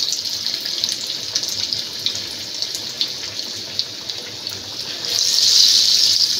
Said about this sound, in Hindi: मैं एक एक पीस उठाती जाऊंगी और इसको इस तरीक़े से फ्राई करने के